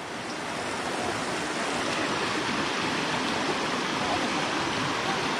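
Strong, swift river water rushes steadily at a waterfall crossing in Bulacan after rain, a loud, even roar filling the scene.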